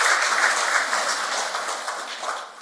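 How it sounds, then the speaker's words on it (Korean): Congregation applause in a church service, a soft, even wash of many hands clapping together that fades slightly toward the end. "박수 좀 해주시기 바랍니다"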